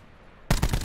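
Video game gunfire shooting into bushes, a sudden loud burst of rapid automatic shots that cuts in abruptly after a brief quiet moment, close and without talk.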